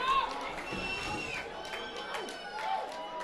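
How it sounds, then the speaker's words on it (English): Football fans at a Prince George Kodiaks home game against the Kamloops Broncos, a steady roar of distant crowd cheering and chatter with whistles, under a commentator's voice. "The Kodiaks faithful getting behind their offense, trying to cheer their boys on"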